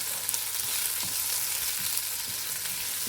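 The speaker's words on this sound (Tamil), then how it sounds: "தக்காளியை சேர்த்துட்டு நல்லா மிக்ஸ் பண்ணி விட்டுக்கலாம். அதை வந்து நல்லா மசிஞ்சு வர வரைக்கும் வதக்கி விட்டுக்கோங்க" Tomatoes sauté in a hot pan for mushroom kurma, giving a steady close sizzle with occasional soft stirring knocks throughout.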